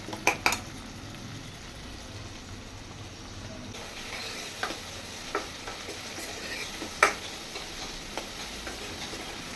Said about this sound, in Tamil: வெங்காயமும் தக்காளியும் நல்லா வதங்கி வரட்டும்.